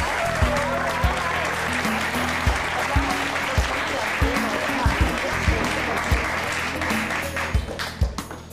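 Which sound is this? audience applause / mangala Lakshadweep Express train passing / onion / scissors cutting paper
audience applause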